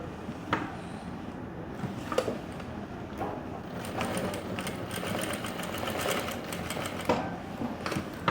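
A sewing machine runs steadily while stitching Korean pants, a soft, fast, even mechanical chatter at moderate distance, with a few sharp clicks and brief pauses along the seam.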